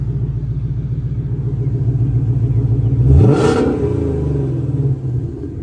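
A car with factory exhaust, factory mufflers and an X-pipe in the middle idles with a loud, lumpy burble. It then revs sharply once into a rising roar and settles back to a rumbling idle.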